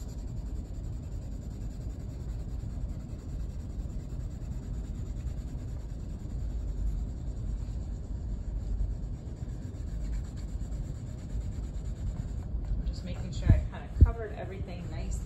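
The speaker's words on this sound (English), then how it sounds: "I could just rub a little more to try to get it a little bit better" Paper rubbed by hand over an inked styrofoam printing plate gives a soft, continuous low swishing that lasts throughout, ending with two brief sharp knocks.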